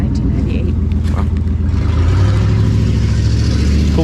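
Truck engine rumbling past at a garage sale, a steady low drone that swells and rises in pitch midway, loud and close, with people chatting over it.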